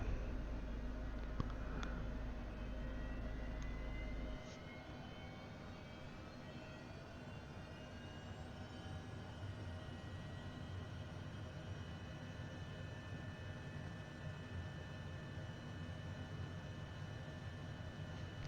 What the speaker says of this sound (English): start engine number 1